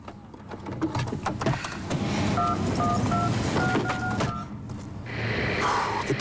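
A telephone is dialed, giving a quick run of short keypad tones that sounds close and clear over a low background hum, with no voices.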